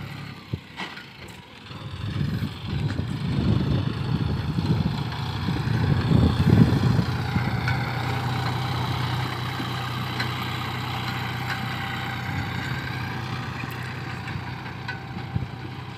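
John Deere 5050 D tractor hauling a laser leveler through soil, a steady low diesel drone that rises and labours under load before settling into a constant close rumble with no talk.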